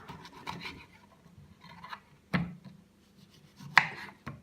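A knife cutting segments out of a peeled orange on a board, a few soft scraping and rasping strokes with two sharper taps, close and quiet, without speech.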